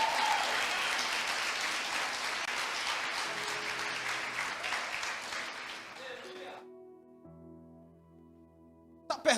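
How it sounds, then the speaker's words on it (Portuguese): Church congregation applauding during a sermon, a dense steady wash of clapping that continues for several seconds before cutting off, leaving faint sustained musical tones. "Se você crê, aplauda ele aí em nome de Jesus."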